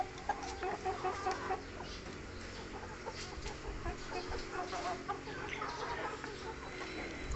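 A flock of Brahma chickens on a farm clucks continuously at moderate volume, with overlapping calls and scattered louder squawks over a steady background.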